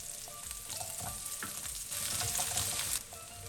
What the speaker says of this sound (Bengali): তারপর রসুন দিয়ে 1 মিনিট ভেজে নিব। তারপর যোগ করব পেঁয়াজ কুচি